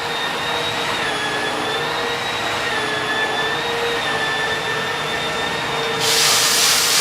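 A spin mop's pads whir at speed on a floor, a loud steady motorized drone with thin whining tones throughout that jumps to a harsher, brighter roar for the final second.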